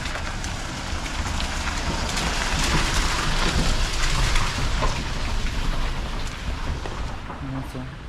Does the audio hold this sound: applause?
no